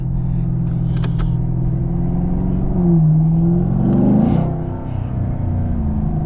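A Camaro 2SS rumbles loudly in traffic, its intake droning steadily before the revs rise in a swelling roar and then settle back.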